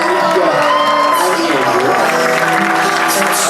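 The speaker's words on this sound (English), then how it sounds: "How about a nice big round of applause now here once again for Alicia" Wedding guests cheer, whoop and clap in a lively, loud crowd burst, with shouting voices mixed through the applause.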